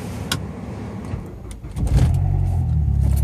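A car engine cranks and catches partway through, then settles into a steady, close idle rumble after some quieter handling noises.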